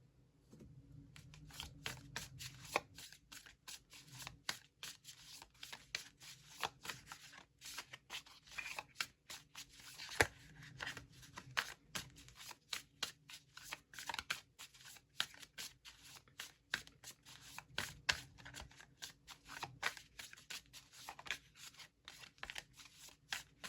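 Tarot cards are shuffled continuously for a long stretch, producing soft, rapid flicking and riffling clicks that stay quiet and close, with no talk.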